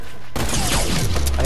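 Gunfire in a first-person shooter video game erupts suddenly into a loud, dense burst of rapid shots with a heavy booming low end that rolls on to the end.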